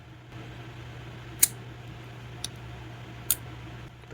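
A budget titanium folding knife with a D2 blade and full flat grind flips open and snaps shut, giving three sharp, isolated clicks spaced about a second apart over a quiet room hum.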